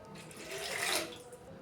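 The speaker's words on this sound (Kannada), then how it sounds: "ಅದ್ರೊಳಗೆ ನೋಡಿರಿ ನಾ ಇಲ್ಲಿ 3 ಕಪ್ಪಿನಷ್ಟು ನೀರು ಹಾಕಾಕತ್ತೀನಿ ರೀ" Water pours steadily into a large pot, a soft, faint splashing rush that swells and fades over a moment, with no voices.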